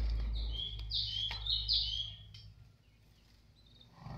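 Canaries and other small songbirds chirp and trill in quick high bursts inside a bird shop over a low hum, fairly faint, the chatter fading out after a couple of seconds.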